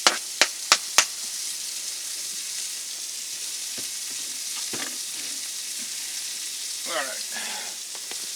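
Food sizzles and fries in a pan with a continuous bright hiss, opening with a few sharp knocks of a utensil, then occasional stirring scrapes; a voice speaks briefly over it.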